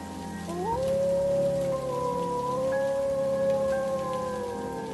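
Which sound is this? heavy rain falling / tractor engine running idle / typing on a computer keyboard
heavy rain falling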